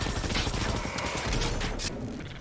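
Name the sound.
KVM-89 machine gun firing in Generation Zero video game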